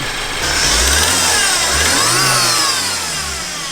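A rotary engine running in a Datsun with loud, close, steady mechanical droning that swells slightly as it revs, heard alone for a few seconds.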